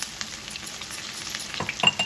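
Crushed garlic and onions fry in a pan of hot oil, a soft continuous sizzle with light stirring scrapes, nearby and without talk, swelling slightly at the end.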